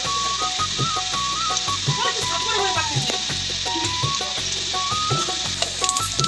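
Hilsa fish pieces dropped into fresh mustard oil sizzle loudly and steadily, with a faint melodic tune playing in the background.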